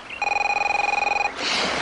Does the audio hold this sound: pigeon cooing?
no